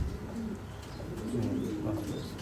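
A pet pigeon coos softly and close in a few low, rolling murmurs, heard over faint background noise.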